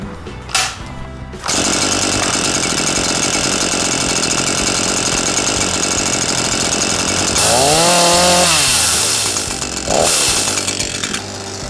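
An Echo CS490 50.2cc gas chainsaw runs loud and close, idling with a buzzing drone, then revving up high with a whining rise and falling back down to idle.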